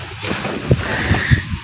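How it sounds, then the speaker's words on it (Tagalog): Strong wind blowing outdoors, buffeting the microphone with a rough low roar and a few gusty thumps over a short stretch. "ang lakas ng hangin"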